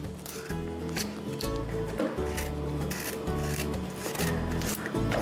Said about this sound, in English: We're just peeling off, and you feel it as you're peeling